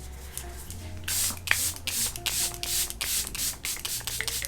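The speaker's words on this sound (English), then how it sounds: "I'm gonna set my face with the Charlotte Tilbury Airbrush Flawless Setting Spray" A rapid series of short, hissing bursts of Charlotte Tilbury Airbrush Flawless Setting Spray onto a face, about eight pumps in quick rhythm, close to the microphone with no talking.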